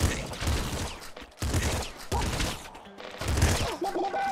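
Rapid gunfire in Nuclear Throne comes in dense, loud volleys separated by brief pauses, a stream of near-continuous shots in several bursts.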